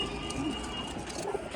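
Pigeons coo at a new pigeon market, a low, soft murmur running beneath a steady background hum, with no voices speaking.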